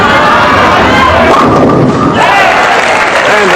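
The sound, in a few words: bowling ball strike knocking down pins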